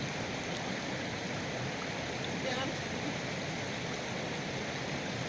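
A river stream rushes in cold open country, a constant broadband roar of flowing water, steady and full throughout with no pauses.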